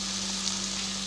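Chicken biryani cooking in a pan, its steady close hiss of frying and sizzling oil filling the moment with no voice.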